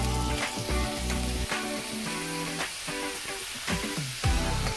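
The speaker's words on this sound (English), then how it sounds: "Hear that sizzle" Shrimp hitting hot oil in a stir-fry pan, with a loud, steady, close sizzle that runs the whole time and swells with sharper crackles as the pieces are stirred.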